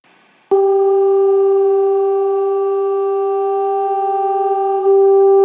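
A sudden onset into a long, steady sustained tone, smooth and unchanging like a singer's voice time-stretched to 14 bars, with a slight shift near the end.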